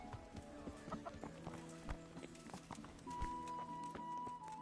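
Horse hooves clip-clop in the medieval game Kingdom Come: Deliverance, a loose run of soft, fairly quiet thuds mixed with game ambience and background clucking of chickens.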